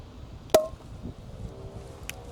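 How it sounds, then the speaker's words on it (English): A single sharp champagne cork pop bursts out on a boat, followed by a brief fizzy hiss and quiet background noise, with a faint click near the end. "do a champagne pop for the boat."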